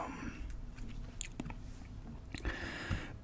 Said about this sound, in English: gum chewing impressions.